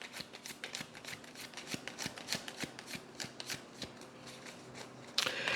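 Tarot cards are shuffled in a steady run of soft, papery riffles and taps, close and moderately quiet, with a brief louder rustle at the end.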